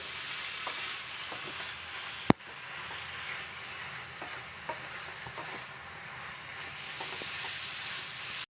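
Cauliflower fry gravy sizzles and reduces in a pan, a continuous close crackling hiss broken by a few scrapes and stirs and one sharp knock against the pan, with no talking.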